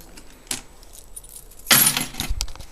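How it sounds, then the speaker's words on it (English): A bunch of keys jangles close by, a brief clink first and then a louder metallic rattle and clatter as they are set down. "Put the keys down."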